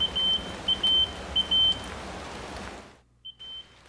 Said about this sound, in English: you'll hear a beeping noise once you enter the phone card